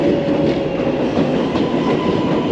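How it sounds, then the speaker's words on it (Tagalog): An express subway train runs along the track, a steady loud rumble of wheels and car body with faint rhythmic clatter, continuous and close for the whole stretch. "Express track train"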